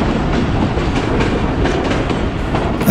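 Mehar Express passenger train running on the rails, a loud, steady rumble with rhythmic clickety-clack from the wheels, heard close from inside the moving carriage.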